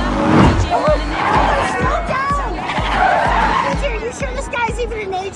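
An Alfa Romeo Spider revs hard as its clutch burns and its tires skid and squeal loudly, with a steady rhythmic thumping beat and a babble of voices underneath.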